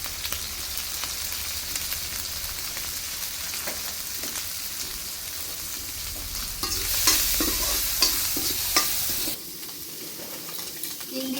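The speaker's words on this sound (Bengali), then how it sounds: "চিংড়ি মাছ ভাজা হয়ে গেছে।" Shrimp frying in a pan with salt and turmeric, a steady close sizzle broken by stirring scrapes and clinks of the utensil, ending in quieter frying.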